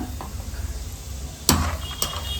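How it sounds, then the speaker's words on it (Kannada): Peanuts roasting in a pan for khara boondi, with a soft sizzle under a low background and two sharp, close clatters of a stirring spoon against the pan near the end. "ಸ್ವಲ್ಪ ನೆಲಗಡಲೆ ಹುರ್ಕೊಳ್ಳೋಣ"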